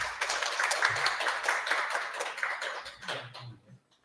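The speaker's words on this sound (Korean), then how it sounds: "박수로 맞이해 주십시오." Audience clapping at the opening ceremony of a culture lecture series at Ajou University's tool museum, a scattered round of hand claps from a modest crowd that thins out and fades near the end.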